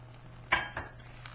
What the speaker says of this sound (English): we're simply going to use our spatula to put it on our serving plate